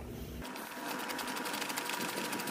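A ratchet tightening ECU bolts on a 2009–2014 Hyundai Genesis Sedan gives a fast, steady run of close mechanical clicks after a short pause, heard alone without talk.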